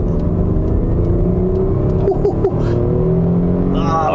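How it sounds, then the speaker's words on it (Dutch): Busso V6 engine of a 1997 Lancia Kappa Coupé with automatic transmission, revving up under acceleration from around 1000 rpm in a steady, loud drone that rises in pitch, with brief gear-change dips near the end. "Ah, wat klinkt zo'n Busso V6 toch?"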